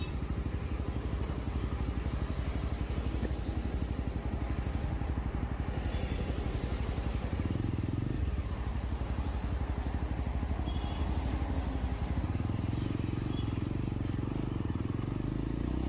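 A 2022 Yezdi Roadster motorcycle being ridden on the road, its engine thrumming continuously with rising and falling revs and steady wind rush, no talking.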